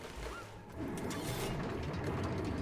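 Oil well machine starting up in Oxygen Not Included, a low mechanical clatter and grinding that swells after a brief lull into a steady, dense whir, moderately loud and alone.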